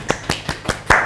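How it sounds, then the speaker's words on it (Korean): A few separate hand claps, five sharp slaps spaced evenly about a fifth of a second apart, close and fairly loud, with no talking, following a call for applause on a Korean political talk show. "박수 한번 치고 가시죠."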